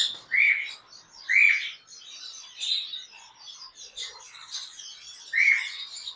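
A pair of high red factor pineapple conures in a cage gives sharp, bright chirps, repeated in irregular bursts roughly every second, close by and with no talking.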